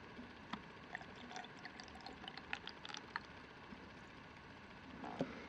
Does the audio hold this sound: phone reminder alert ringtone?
no